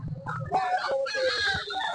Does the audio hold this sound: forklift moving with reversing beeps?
no